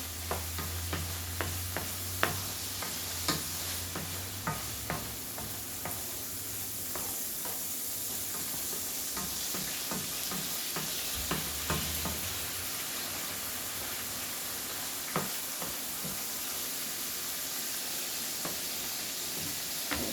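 Ground beef sizzles steadily in a hot pan as a spatula scrapes and chops through it, with repeated sharp clicks and taps over a constant frying hiss, close and fairly quiet with no talking.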